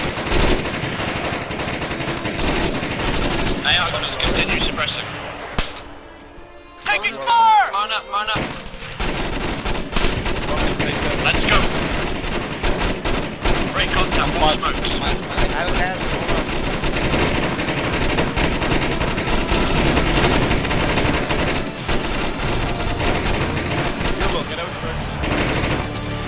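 Sustained automatic rifle fire in a military video game defending a forward operating base, with dense, loud bursts of shots and distant explosions continuing almost without pause and briefly dropping away near the middle.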